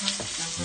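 Tuyo, dried fish, fries in a non-stick pan, a brief close crackling sizzle with a faint stirring scrape, continuous with no voices.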